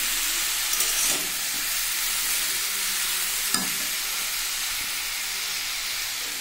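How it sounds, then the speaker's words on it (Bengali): Chopped ash gourd pieces fry and are stirred in a hot kadai, a loud continuous hiss of sizzling oil with a few sharp scraping knocks of the spatula against the pan. "এবার কড়াইতে আমি কাটা চাল কুমড়োগুলো দিলাম"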